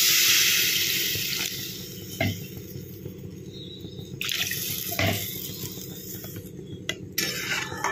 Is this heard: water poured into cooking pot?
yes